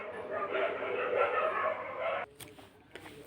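Several dogs bark and yip together in a busy outdoor spot, a dense, fairly loud clamour that cuts off suddenly, leaving faint background noise and a few knocks.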